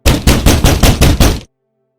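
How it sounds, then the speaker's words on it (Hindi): Loud, heavy pounding on a door, six rapid evenly spaced thuds close up, a horror-story sound effect standing alone and cut off sharply into silence. "और तभी जोर से दरवाजा पीटने की आवाज आई।"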